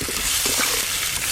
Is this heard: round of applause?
no